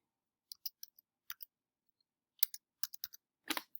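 A password is typed on a computer keyboard: quiet, irregular keystroke clicks in short bursts, with pauses between groups and a denser cluster at the end.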